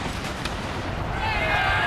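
A 24-pounder cannon in a Napoleonic-era strategy game fires canister shot, a dense, sustained roar of booming blasts with crackling tails that swells slightly louder toward the end, with no voices over it.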